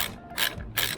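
Two quick bursts of ratcheting clicks from a ratchet driving a Torx 30 bit, backing out screws on a 2023 Triumph Tiger 900 GT Pro motorcycle during crash-bar installation, close and fairly quiet.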